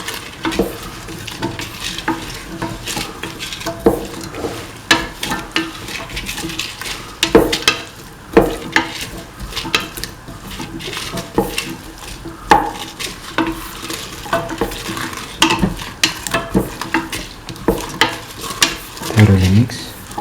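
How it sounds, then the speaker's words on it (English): A spoon stirs tomato pieces through a snake gourd and coconut milk stew mixture in a pan, with repeated scraping and clinking strokes over a soft simmering sizzle, close and fairly loud. "Mix the tomato pieces nicely thoroughly with the rest of the mixture."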